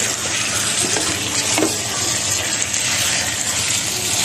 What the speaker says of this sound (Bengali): মাছগুলো নেড়ে চেড়ে দিচ্ছি। এখন এগুলোকে আমি সুন্দর করে কষাবো।